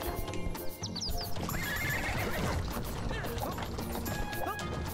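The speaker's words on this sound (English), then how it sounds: "I wonder if I need to stop the horse and cart." Horse and cart moving in the video game Clive 'N' Wrench: steady clip-clop of hooves with a whinny and neigh, busy and loud throughout amid game sounds.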